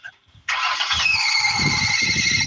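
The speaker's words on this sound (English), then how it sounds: "That's the sweet sound of a failing alternator." A car engine with a failing alternator whines with a steady high-pitched squeal that rises suddenly and holds for about two seconds, loud and close, with a rough low engine rumble beneath it.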